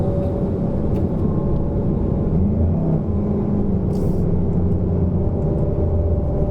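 A Volkswagen Golf GTI Mk7.5 cruises on a highway in sixth gear at about 2,000 RPM, making a steady low engine and road drone inside the cabin with a continuous even rumble and no talking.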